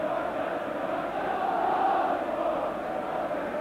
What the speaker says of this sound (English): you can hear the crowd singing